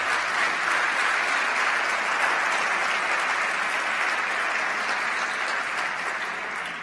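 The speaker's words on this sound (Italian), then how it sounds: "È bello questo applauso" A large audience at a talk in Rome applauds steadily, with dense, continuous clapping that holds strong throughout and tapers off slightly at the very end.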